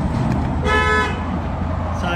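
A short horn toot sounds from a Putzmeister concrete pump truck, a single brief honk of about half a second over steady engine and background rumble, with someone speaking nearby.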